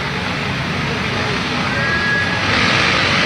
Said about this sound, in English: I can hear the revs rising.